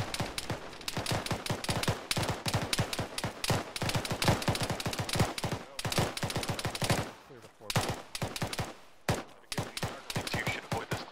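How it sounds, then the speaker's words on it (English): Rapid bursts of automatic gunfire in a military shooter video game, dense and continuous volleys with brief pauses, loud and sustained, faint talk underneath. "Gunshots east of one."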